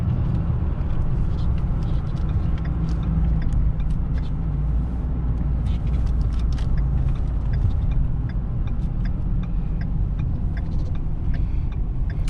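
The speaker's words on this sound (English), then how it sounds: "I'll punch it out here. I'll let it shift through a few gears" A 2011 Ford F250 pickup with the 6.7-liter diesel accelerates hard and shifts through its gears, giving a loud, steady low engine and road rumble that runs unbroken for the whole stretch, with no clear break at each shift.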